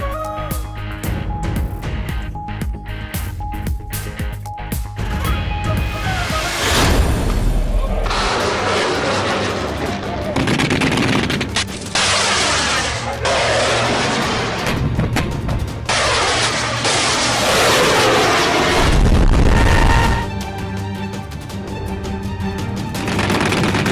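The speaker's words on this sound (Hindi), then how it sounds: "पाक फौज की जानिब से air defence fire power show का शानदार मुजाहिरा" Air defense anti-aircraft guns firing at a Pakistan Army firepower show, heavy continuous booming and rattling bursts that run loud and dense through most of the clip, with a quieter stretch at the start.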